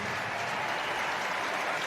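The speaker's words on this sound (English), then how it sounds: "Listen to this crowd." A rugby stadium crowd applauds steadily at a Scotland versus Tonga match in 2021, a dense, continuous wash of clapping and cheering from a large audience.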